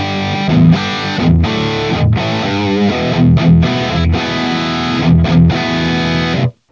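Distorted electric guitar through a Kemper Profiler with the impedance function switched off, playing loud chugging chords and riffs with brief breaks, ending abruptly.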